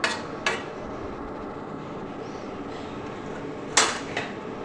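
A metal lid clanks onto a cooking pot of lentil bori and cauliflower-stalk chorchori: a quick pair of bright knocks, a quiet simmering pause, then another pair of clinks.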